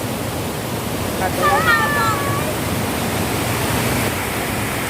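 Strong rushing water roars as a dense, steady wash of noise throughout, with a brief high voice or whistle briefly rising above it midway.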